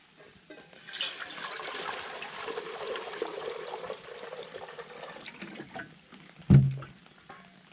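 Water pours steadily into a pot for boiling at an outdoor campfire, a continuous splashing trickle for several seconds that tapers off and ends with a dull knock.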